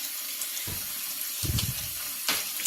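Hot water runs steadily from a sink tap as dish detergent is added for washing crochet hair, a continuous close rushing with a few soft splashy bursts and no talk.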